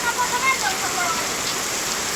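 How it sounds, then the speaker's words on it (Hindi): Heavy rain pours steadily, a dense unbroken hiss of water drumming on surfaces, loud and close throughout, with faint chirps briefly audible at the start. "बहुत तगड़ा पानी हो रहा है"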